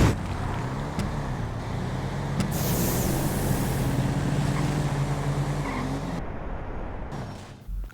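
Drag race cars launch down the strip in GTA V, a street-outlaws style race against a nitrous car, with a loud, steady engine roar that holds for about six seconds before cutting off abruptly.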